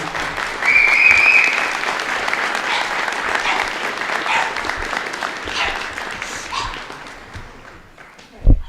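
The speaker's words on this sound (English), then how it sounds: "Let's give them a round of applause." A crowd at a Veterans Day ceremony applauds in a dense, steady wash of clapping that slowly fades. A voice briefly cuts through, and it ends on a single sharp thump.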